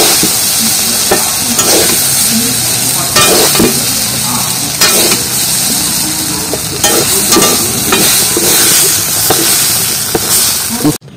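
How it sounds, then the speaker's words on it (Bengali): Taro flowers stir-fried in hot oil in a pan give a loud, steady sizzle broken by repeated scraping strokes of a spatula. "কিছুটা তেলের উপরে কষিয়ে নিয়েছি, এবার আবার তুলে নিচ্ছি"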